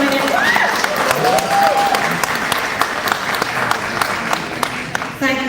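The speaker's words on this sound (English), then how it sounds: "give me a applause, at least" Crowd applause at a live event in India with the Citadel cast, steady dense clapping with occasional louder individual claps and faint voices and whoops rising through it.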